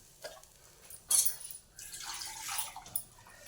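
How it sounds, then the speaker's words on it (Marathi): Water pours in short splashing bursts into a pan of spinach bhaji with peanuts, quiet and close, with no one speaking. "अजून थोडं पाणी टाकलं"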